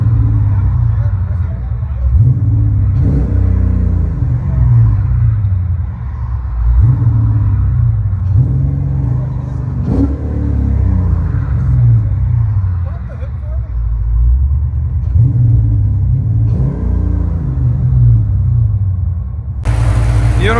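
Chrysler 300C with a swapped 6.1L HEMI V8, headers and Flowmaster exhaust, heard from inside the cabin as a deep, steady rumble with periodic swells under loud, continuous talk.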